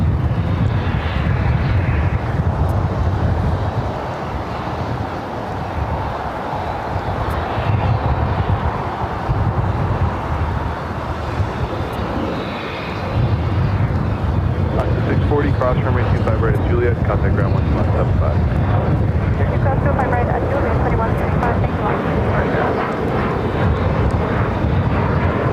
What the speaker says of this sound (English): the Lufthansa Queen flight 456 coming from Frankfurt